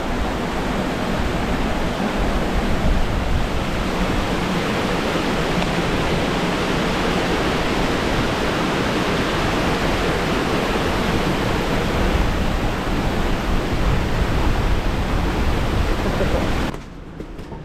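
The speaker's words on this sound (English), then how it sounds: "We're approaching the waterfall." A waterfall in Parunuweap Canyon roars as a loud, continuous broadband rush of falling water that holds steady for the whole stretch before dropping off abruptly at the very end; no one speaks.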